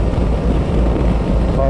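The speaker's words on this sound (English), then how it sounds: "Apologize for the wind noise if it's too much." Heavy, constant wind buffeting on a microphone along a mountain road, a loud low rumbling roar that fills the whole clip without pause.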